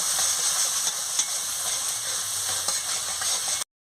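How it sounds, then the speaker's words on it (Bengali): Turmeric and chili powder fry in a pan with a steady, moderate sizzle and hiss, with faint stirring scrapes, before cutting off abruptly. "লঙ্কার গুঁড়ো পরিমাণ মতন দিয়ে দিচ্ছি, দিয়ে ভালো করে কষিয়ে নিচ্ছি"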